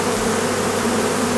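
A honeybee swarm being moved from a trap into a hive fills the air with a dense, steady, close buzzing hum that stays even and loud throughout, with no voices.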